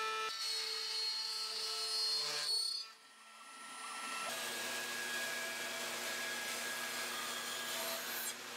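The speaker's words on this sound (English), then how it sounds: "I ended up putting in a 3/4 inch round nose bit, and that's what ended up cutting that final portion of the pocket" A wood router fitted with a 3/4 inch round nose bit cuts a pocket into mostly end-grain wood, giving a loud, close, steady high whine that dips and drops off briefly midway, then spins back up and holds, with no talk.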